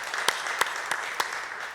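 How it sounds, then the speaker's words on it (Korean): A church congregation gives a short round of applause at an evening service, a few crisp, evenly spaced claps standing out over a faint background. "박수로 격려하겠습니다."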